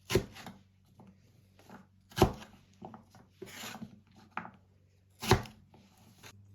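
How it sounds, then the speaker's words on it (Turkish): A knife chops through firm pumpkin on a board in four or five sharp, separated strokes, with quieter scraping and rubbing between them. "bütün kabaklarımızı doğrayacağız."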